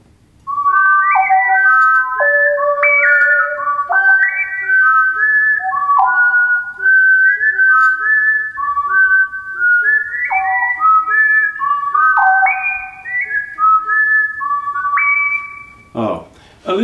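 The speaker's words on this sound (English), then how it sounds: "That's the GR55 for you there, and I'm playing the strange whistle effect" A Roland GR55 guitar synthesiser voiced with a whistle patch plays a loud, continuous melodic line of sliding, stepping whistle-like tones for about fifteen seconds, ending in a brief noisy burst.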